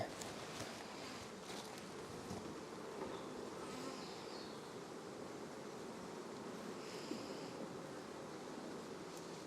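Honeybee workers buzz steadily at their hive, a dense continuous hum with a faint wash of outdoor noise and no voices.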